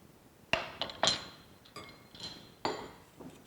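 A spoon or whisk stirs flour, sugar and salt in a mixing bowl, making a few close, sharp clinks and taps against the bowl with soft scraping between them. No one speaks.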